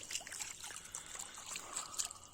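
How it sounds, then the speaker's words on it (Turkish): Water trickles and splashes steadily as muddy feet are washed outdoors at a fishing camp in a valley. The sound is soft and continuous, with no talking. "Ayaklarımızda çamur oldu biraz. Şöyle yıkayalım."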